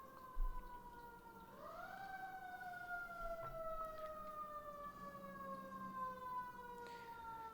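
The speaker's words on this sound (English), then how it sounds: "Sorry if you hear a siren." An emergency vehicle siren outside in Washington, DC, its faint, distant wail rising in pitch and then holding a long, slowly falling tone.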